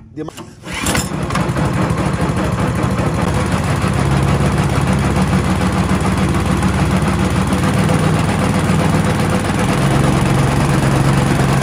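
A small petrol engine with a three-litre fuel tank catches after a brief start and then runs steadily, a loud, close, continuous chugging drone for about eleven seconds.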